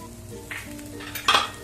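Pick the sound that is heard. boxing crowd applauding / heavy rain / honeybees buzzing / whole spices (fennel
whole spices (fennel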